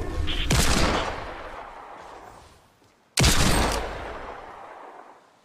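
Gunfire in an online shooter video game, heard as two loud, dense blasts, each with a long fading tail, a short gap between them and no voices.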